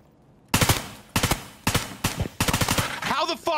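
Rapid automatic gunfire in Escape From Tarkov rings out in several loud, close bursts separated by short gaps, with a voice briefly audible near the end.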